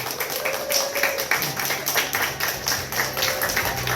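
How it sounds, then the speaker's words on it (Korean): A small high school church congregation claps together in a steady rhythm, a continuous patter of hands heard at moderate volume without voices. "다시 한번 박수하겠습니다."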